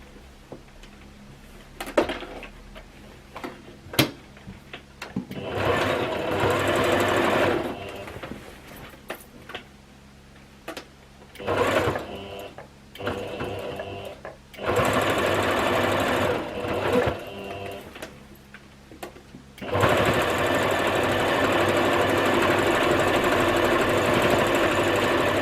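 A sewing machine stitching a 1 cm turned hem on a skirt made from old jeans, running in several loud, steady bursts with short pauses between, then a long continuous run, close and without talk.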